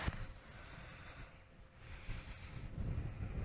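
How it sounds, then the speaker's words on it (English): Wind buffeting the microphone at Whitefish Point near the lighthouse, a faint, steady rushing roar with low rumbling gusts throughout and no voices. "If I take a step back, we can get out of the wind."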